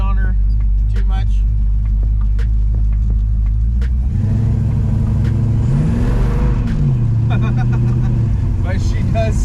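A big-block Dodge Charger modeled on the Dukes of Hazzard car holds a loud, steady, close engine rumble, rising into a revving swell midway as the tires spin, with a voice briefly speaking over it.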